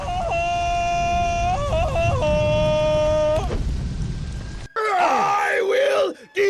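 Loud, strained monster-like yells and groans from enemies in the game Conan Exiles, with wavering pitch, two long drawn-out cries followed by a harsher howl after a brief drop.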